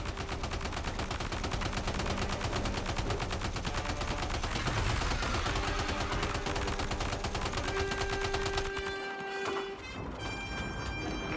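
Sustained rapid gunfire aimed at a boss's weak point in the game Death Stranding 2, a steady machine-gun-like stream of close, loud shots lasting about nine seconds before cutting off into a ringing tone.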